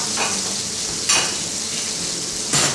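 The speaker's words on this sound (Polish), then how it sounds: "Już pomału sos nam będzie dobry, ale jeszcze sekundka polędwiczki dochodzą" Soft steady sizzling of meat frying in a pan, with a few brief clinks and scrapes of a utensil against the pan.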